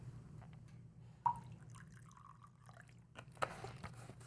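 Water is poured into a container to make a mixture in a classroom science demonstration, heard as a faint trickle with a few drips and clinks over a low hum.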